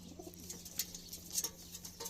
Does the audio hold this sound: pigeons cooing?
yes